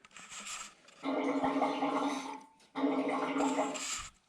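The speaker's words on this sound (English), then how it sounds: "you could really just blow it and listen for the bubbles" Breath blown into a diesel fuel line on a Land Rover Defender diesel heater install makes bubbling, gurgling fuel in two sustained bursts separated by a pause, close and moderately quiet.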